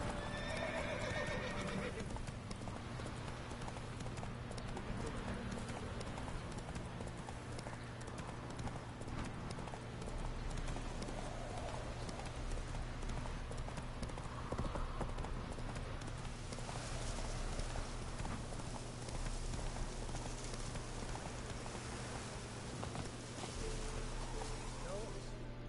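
Horse hooves clip-clop steadily at a gallop in The Witcher 3, a continuous rhythmic pounding under game ambience and music, with a neigh and some talking over it.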